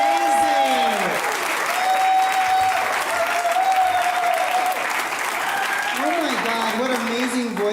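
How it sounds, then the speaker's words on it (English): An audience at a Selichot and musical Havdalah service applauds loudly and steadily for several seconds, with a voice speaking over the clapping. "Let's really applaud."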